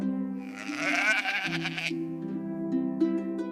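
A sheep in an enclosure gives a loud, wavering bleat close by, followed by a second, lower and longer bleat that trails off, with little else around.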